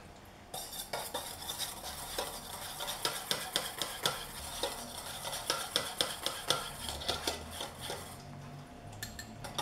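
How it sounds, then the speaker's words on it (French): Whisk stirring powdered egg white into water in a bowl for macarons, a steady run of quick clinking, scraping strokes with sharp ticks against the bowl, close and fairly loud, with no talk. "on verse plutôt en poudre le blanc au-dessus de l'eau tout en mélangeant"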